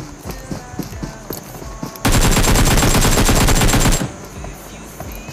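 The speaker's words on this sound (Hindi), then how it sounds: "AKM की शॉट्स पढ़ रही है जो कि राजपूत दे रहे हैं" An AKM rifle firing in a video game, a loud unbroken two-second burst of rapid shots that cuts in sharply over quieter game sounds.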